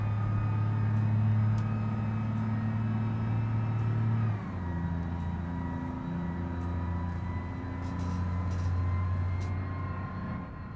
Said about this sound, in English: I'll let you hear the engine